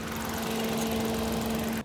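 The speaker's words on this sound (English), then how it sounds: "The engine sounds terrible. Sounds like a GDI. It sounds bad, man. It sounds like a diesel." A 2023 Proton S70 engine runs with a steady, rough, diesel-like drone and a constant hum, close and loud, then cuts off abruptly at the end.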